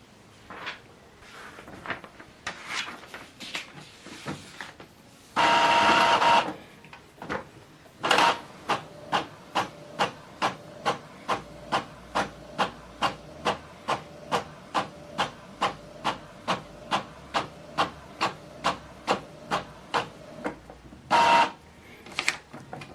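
An Epson XP 5200 inkjet printer prints a page: a loud mechanical burst, then a long, steady run of evenly spaced clicking and whirring pulses as the paper feeds through, ending with a final short burst. No one speaks.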